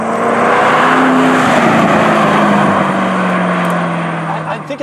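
A Ford GT's engine pulls hard at half throttle, a loud sustained roar with a pitch that climbs then eases as the car accelerates, heard from inside the cabin under heavy road and wind noise.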